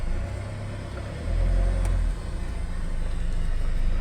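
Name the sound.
Hyundai Starex H1 2.5 CRDi diesel automatic driving off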